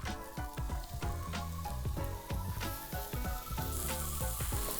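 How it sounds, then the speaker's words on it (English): Finely sliced onion frying in oil in a pan, a loud, dense sizzle with stirring clatter and rhythmic scraping knocks throughout, close by and with no voices. "So in the same pan, we'll add a little more oil, and we'll go in with our finely sliced onion"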